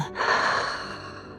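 During a yoga flow, a long exhale through the nose swells quickly and then slowly fades away, close to the mic and soft.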